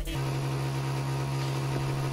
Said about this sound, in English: Does your boat's blower sound like this?